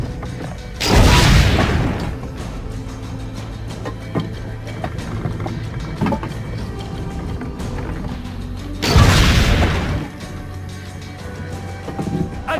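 Two heavy cannon blasts boom in Assassin's Creed Brotherhood, roughly eight seconds apart, each a loud broadband burst with a rumbling tail over a low ambient game soundscape.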